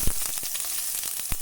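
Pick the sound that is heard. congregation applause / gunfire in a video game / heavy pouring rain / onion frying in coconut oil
onion frying in coconut oil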